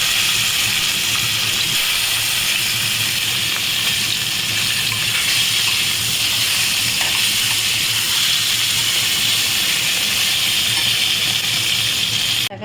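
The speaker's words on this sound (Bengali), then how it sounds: "এবার আমি মাছটা ভেজে নেব।" Fish sizzles in hot oil in a pan, a loud, continuous bright hiss and crackle that runs unbroken for over twelve seconds.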